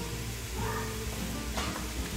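Ground beef and vegetables such as zucchini sautéing in a pot for soup, a steady close sizzle and crackle with faint stirring throughout.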